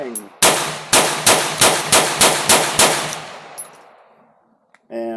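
Plastic Whitney Wolverine pistol firing a rapid string of about nine loud, sharp shots, each with a metallic clang and ringing echo that fades into a long decaying tail, followed by a brief clatter at the end.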